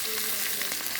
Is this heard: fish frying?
yes